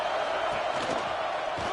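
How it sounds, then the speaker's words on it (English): Football stadium crowd at a college game roars as a dense, loud, continuous wash of cheering and noise, holding steady throughout the short stretch. "This crowd bringing the energy and noise early"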